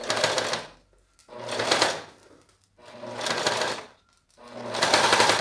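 Domestic sewing machine stitching vinyl plastic, its motor whirring in four close, loud bursts of about a second each, separated by short pauses.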